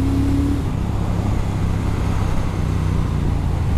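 A 2021 Triumph Speed Twin motorcycle on twisty roads, its engine a steady, loud drone with strong wind rush running continuously and no break.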